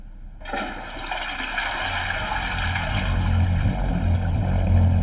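A toilet flushing in a house bathroom, a sudden loud rush of water that keeps gushing and gurgling steadily, heard up close with no talking.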